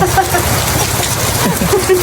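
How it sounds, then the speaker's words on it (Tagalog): Heavy rain pours down in a steady, loud broadband wash that fills the whole clip, with a person talking over it. "Ay, lakas ng ulan."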